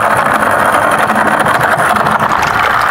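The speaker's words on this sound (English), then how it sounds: "Now this pump is pulling in air right now" An aquarium water pump in a classroom hatchery tank runs while being primed and still pulling in air, giving a loud, steady motorized hum with a rattling, sputtering edge that continues without a break.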